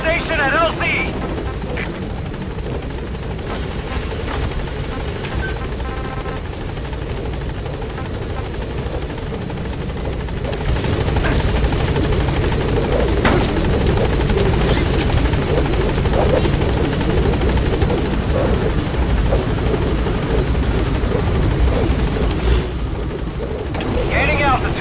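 A helicopter arriving at a landing zone in the video game Metal Gear Solid V: The Phantom Pain, rotor chop throbbing steadily and growing louder as it nears, with radio-style voice chatter and scattered game effects over it.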